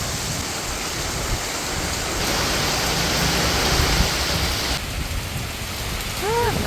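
Heavy typhoon rain, from Typhoon Enteng in the Philippines, pours down with gusting wind in a dense, constant roar that swells slightly midway, loud and unbroken throughout.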